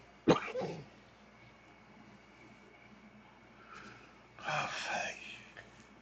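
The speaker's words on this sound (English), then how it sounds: "that last cough, like, physically hurts." A sharp cough bursts out near the start, followed by a quieter stretch and then a rougher burst of coughing and breathy sounds later on.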